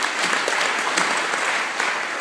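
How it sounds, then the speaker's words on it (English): A conference audience at a leadership event in Dana Point applauds, dense steady clapping filling the room for a couple of seconds. "Another round of applause for them, please."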